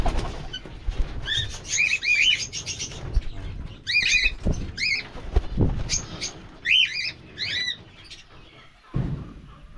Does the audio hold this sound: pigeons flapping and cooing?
yes